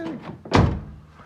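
A Toyota Matrix car door swings and thunks shut once in a single solid, close-by impact, preceded by faint rustling and followed by a fading tail, with no talk.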